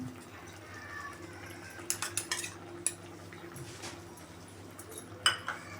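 A metal spoon clinks and scrapes against a pan while coarsely ground peanut powder is spooned into a quick everyday vegetable dish, with a few light taps and rattles over a faint steady kitchen hum.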